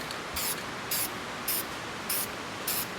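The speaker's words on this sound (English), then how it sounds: "This is what I'm using as a guide coat." Guide coat sprayed onto a 1968 Mustang body in short aerosol bursts, five evenly spaced hisses of about a quarter second each over steady background noise, close and moderately loud.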